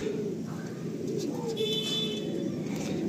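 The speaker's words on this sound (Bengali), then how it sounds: "এটা হচ্ছে অ্যাকচুয়ালি ম্যাগনেট পায়রা।" Magnet pigeons in a loft coo in low, continuous murmurs, close by and steady over a background hum.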